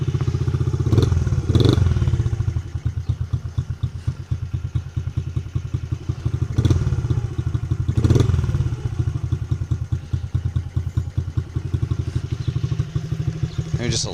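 A Honda XR50R/CRF50F motorcycle engine, fitted with a replacement carburetor, putters at a rapid, steady idle up close, with occasional clattering thumps and brief voices over it.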